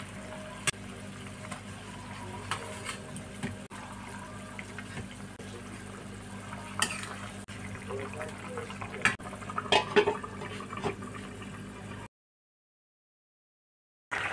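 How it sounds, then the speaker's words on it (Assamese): A bhokua fish curry with ridge gourd simmers under a lid in a cooking pot, giving a faint, steady watery bubbling with a few soft clinks over a low kitchen hum, then briefly falling silent. "এতিয়া মোৰ আঞ্জাখন উতলিছে,"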